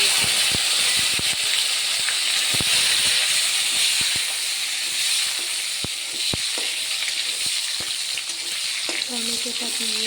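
Tomatoes sizzle loudly in a hot pan with a constant frying hiss, while sharp clicks and scrapes from stirring break through again and again.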